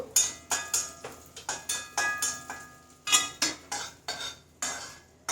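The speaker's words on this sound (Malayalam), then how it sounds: "ആദ്യം തന്നെ നമുക്ക് ഈ മുന്തിരി അങ്ങോട്ട് ഇട്ട് കൊടുക്കാം വറുത്തെടുക്കാനായിട്ട്" Raisins tossed in hot ghee in a pan for a flattened-rice laddu, heard as a steady run of sharp metallic scrapes and clinks from a spoon against the pan, roughly two per second, with a faint sizzle beneath.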